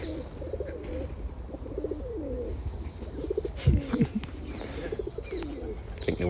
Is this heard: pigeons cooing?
yes